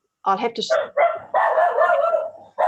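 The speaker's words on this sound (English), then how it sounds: "Sorry about the dog." A dog barks close to a microphone during an online Zoom meeting, a few sharp loud barks mixed in with a person talking nearby.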